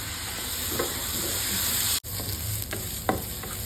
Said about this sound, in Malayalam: ഈ അരി ഇതേ ഇതിലേക്ക് നമുക്ക് തട്ടി കൊടുത്തിട്ട് ഒന്ന് ഇളക്കിയെടുക്കാം